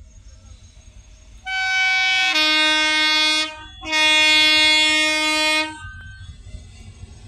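Train horn sounding at Handapa railway station as a train arrives, two long loud harmonic blasts separated by a short break, over faint background rumble and ambient noise.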